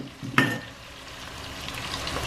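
Pork, onions and garlic fry in a pan for adobo, giving a low steady sizzle with a brief clatter of a utensil or pan near the start.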